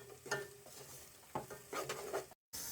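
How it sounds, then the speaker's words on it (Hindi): Cumin seeds frying with garlic-ginger paste in a pan, a faint, low sizzle broken by scraping stirs and light clinks of a utensil against the pan. "लहसुन अदरक का पेस्ट डालने के बाद हम इसको 1 मिनट फ्राई कर लेंगे"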